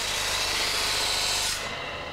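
A blade, held with a wooden pressing block, is polished against a spinning polishing wheel with emery paste, giving a continuous loud abrasive hiss that drops away near the end.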